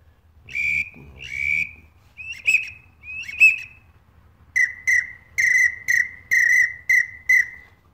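An acrylic game call whistle gives a series of short, high chirps, first in spaced pairs, then in a quick, steady run of bursts, close and alone.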